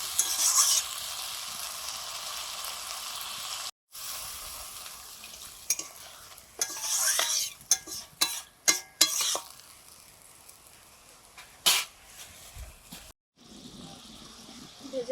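Curry being stirred and fried in a pan after red chili powder mixed in water goes in, with a steady sizzle and repeated scraping strokes of a spoon against the pot, close and fairly loud, with a couple of brief pauses.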